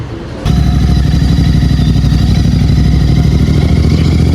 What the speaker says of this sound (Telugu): ఇక నేను బండి మీద ఎక్కినాక స్టార్ట్ చేస్తా.